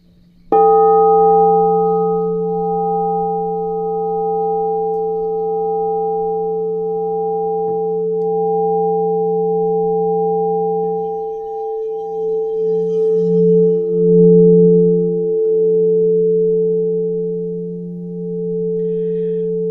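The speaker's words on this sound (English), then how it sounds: "this is what we call a grandmother bowl, and it is iron with platinum sheen on it" A struck iron singing bowl with a platinum sheen, a large grandmother bowl, rings out with a pure, sustained tone and shimmering overtones, the note wavering and swelling gently as it resonates.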